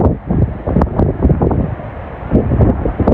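Stormy cyclone winds buffet a coastal bridge at Rameswaram, a loud, continuous roar of wind noise with gusty rises and rustling across the whole stretch, no voices.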